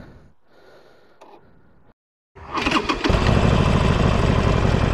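A 2020 Harley-Davidson Sportster 48 motorcycle engine cranks and catches after a brief silence, bursting into a loud, close, steady rumbling idle that fills the rest of the moment.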